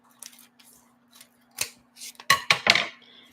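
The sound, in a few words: cutting with scissors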